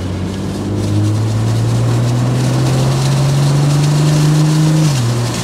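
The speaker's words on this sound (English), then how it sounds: "That inline six twin scroll turbo is just ready to rock and roll. It has a good exhaust note." A 2024 BMW M440i convertible's inline-six twin-scroll turbo engine revs up loud and close, its exhaust tone climbing steadily then dropping back near the end, with no talking.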